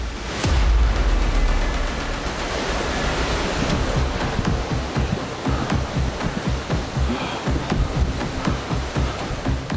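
Waterfall in a rocky outdoor setting, a loud, continuous broadband rush of falling water with scattered splashes and thumps, steady throughout and without speech.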